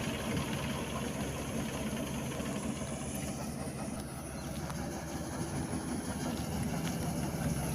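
An ACE Ultra rice cutter harvester machine's engine runs in a rice field, giving a dense, constant rumbling drone with a steady mechanical knock, close and loud throughout with no pauses.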